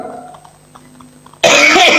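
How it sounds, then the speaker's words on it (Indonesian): A man coughs once abruptly and loudly, a harsh burst that comes after a quiet stretch of faint background sound. "saya agak batuk-batuk terus karena masih kurang enak setelah pulang keliling"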